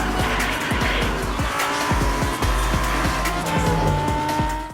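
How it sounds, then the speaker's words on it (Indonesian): Race cars tear along a street circuit in a racing film. Engines roar loudly as tires squeal and skid again and again in sharp, overlapping bursts. "Andre terus tancap gas karena mobil Mario tentu melaju dengan sangat kencang"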